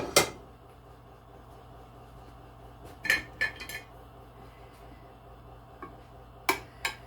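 Cooked noodles dropped into a baking dish for a ranch chicken bake, giving a few sharp clinks and clatters of dishware: one at the start, a short cluster midway, and a couple near the end, close and fairly loud.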